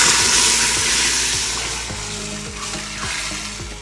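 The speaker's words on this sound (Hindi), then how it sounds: "दोस्तों अब मैं ये भिगे हुए चावल डालने लगी हूँ। हमारी इलायचियाँ लाल हो गई हैं। इसका पानी भी मैं साथ में डाल रही हूँ।" Soaked rice, poured in with its soaking water, lands in hot oil with browned cardamom pods for khichdi. A loud, hissing sizzle bursts up at once, then settles into a steady bubbling fry, with no speech.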